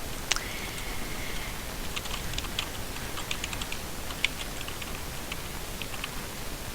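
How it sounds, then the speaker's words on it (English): Keys clack on a computer keyboard while text is entered into a word processor, a steady stream of light, close taps at an irregular pace with one or two sharper strikes. "And here I messed up again, so I could just actually backspace and fix that."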